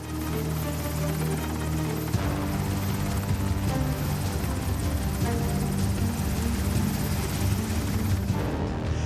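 An MH-60R Seahawk naval helicopter flies overhead with a loud, steady rotor and turbine drone that shifts slightly in pitch partway through and then holds constant.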